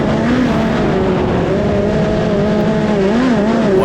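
A midget race car roars on a dirt track, its engine loud and close with a steady high drone whose pitch rises and falls as the driver works the throttle.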